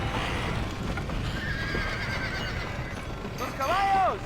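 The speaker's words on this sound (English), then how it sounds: "Get them horses out! They're trapped in there." Horses trapped in a burning barn in Red Dead Redemption whinny and neigh, with a loud, clear whinny near the end over a busy background of shouting voices and hoof clatter.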